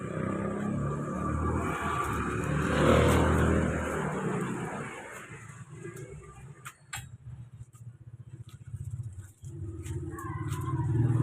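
Motorcycle taxi tricycles rumble along a barangay street in Silang, engines swelling past close by, then fading into lighter street noise with ticking and clatter before another engine builds again.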